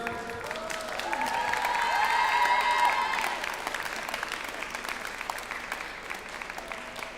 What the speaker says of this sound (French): je vais vous demander un dernier tonnerre d'applaudissements